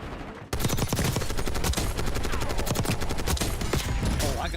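Gunfire in the Black Ops 6 video game, a loud, rapid stream of automatic shots starting abruptly and rattling continuously without pause, with no talking over it.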